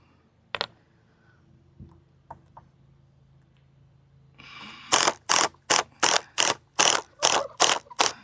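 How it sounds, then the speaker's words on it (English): A ratcheting hand tool backs screws out of a chicken coop fixture, giving eight loud, evenly spaced bursts of clicking near the end, after a mostly quiet stretch with a few isolated knocks. "Usually when you take screws out like this, what you want to do is take the bottom out first"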